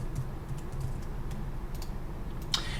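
Rapid, steady typing on a computer keyboard, close and clear, a short burst of key clicks with no talking.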